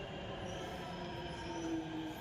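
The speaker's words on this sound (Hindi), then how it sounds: "ये आ गई हमारी मेट्रो" Delhi metro train pulling into Uttam Nagar station, a steady loud rumble of wheels on rail with a thin high squeal rising near the end, no voices over it.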